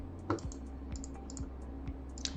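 Keys clatter on a computer keyboard in a scattered series of soft clicks and taps, fairly close, over a steady low electrical hum, with no talking.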